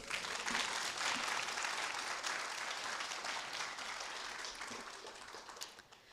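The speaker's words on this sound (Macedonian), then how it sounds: "Мислам дека оваа изведба заслужува уште еден аплауз" An audience at a women's leadership conference applauds after a performance, dense, steady clapping from a large room that fades slightly toward the end.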